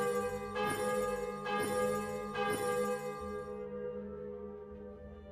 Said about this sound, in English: This bell sounds much more like the bell from The Wraith and Dead by Daylight.